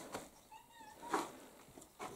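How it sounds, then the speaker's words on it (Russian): A cat meows faintly at a dovecote, one drawn-out mew followed by short quieter calls, soft and somewhat distant in a quiet space. "Да, коточки мои, коточки."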